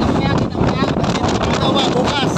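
Strong wind buffets the microphone steadily and loudly from start to finish, a close, roaring rush during a rescue of people from a boat on rough water.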